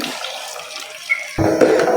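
Water is poured into a pan of cooking apricot chutney, giving a brief hiss that turns into a louder, fuller sizzling splash as it hits the hot pan.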